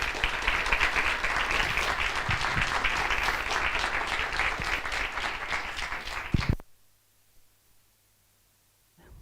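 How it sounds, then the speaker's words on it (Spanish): Loud, dense applause from a masterclass audience in a hall about making a living from comics, steady clapping of many hands that stops abruptly, leaving near silence. "Un aplauso, por favor, para Belén."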